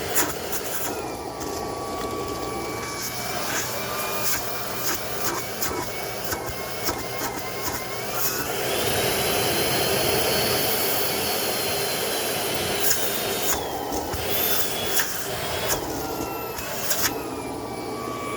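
A Shark Power Detect cordless stick vacuum, model IP1251, runs nearby with a loud, steady motor whine and airflow roar. The tone shifts and surges partway through as it works.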